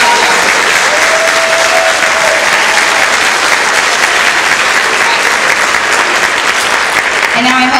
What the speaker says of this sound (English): Can we clap for these people?